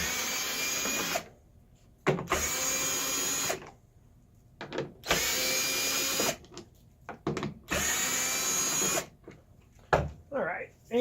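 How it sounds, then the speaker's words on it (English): A power drill on an 8mm socket backs out the bolts holding the dust cap on a Ram projector headlight, running in three sustained whirring bursts separated by short pauses, loud and close. "It's held on with 5 bolts that use an 8mm socket to pull those off."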